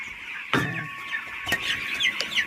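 Chicks and chickens on a farm, near dung, give a busy mix of close chirps and clucks. Sharp knocks break in at intervals, and no one speaks.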